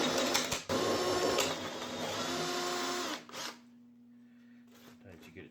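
A large Forstner bit bores into wood in a woodshop, giving a loud, steady grinding whir for about three seconds that then drops off sharply, leaving a faint motor hum.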